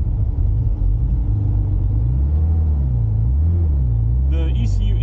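A W Motors Lykan Hypersport with a twin-disc clutch rumbles at low revs as the clutch is gently let out, its engine tone rising and dipping steadily beneath a man's speech.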